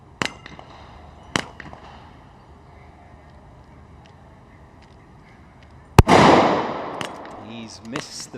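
Sniper rifle shots at a shooting competition target: a few sharp, separate cracks spaced seconds apart, then a louder blast with a ringing, rushing tail. Faint background noise fills the gaps.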